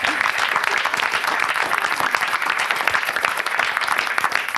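Sustained crowd applause for young athletes wearing their medals at a disability sports event, dense and fairly loud clapping continuing evenly from start to finish.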